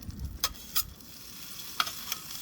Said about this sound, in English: I'm gonna clean the griddle quickly. I got a handy dandy scraper here